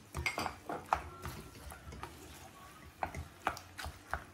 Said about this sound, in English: So in the same bowl, fam, we added the olive oil, our tuna, and our egg. We are going to stir it.